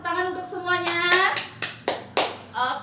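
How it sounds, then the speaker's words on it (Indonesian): Schoolchildren in an elementary classroom clap their hands in a few uneven bursts, close and fairly loud, with a voice briefly rising over the claps before they trail off into separate slaps. "mari kita tepuk tangan untuk semuanya."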